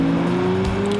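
A Lamborghini Murcielago supercar with a 571 bhp 6.2-litre V12 and four-wheel drive holds a loud, steady, droning engine note for a brief second, with no voices.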